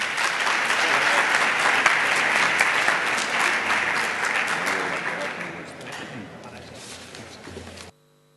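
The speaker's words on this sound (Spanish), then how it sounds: "Un aplauso para ellos." Sustained audience applause at an education conference session, dense and steady clapping from a sizeable crowd that gradually thins out and stops, with some voices in the room.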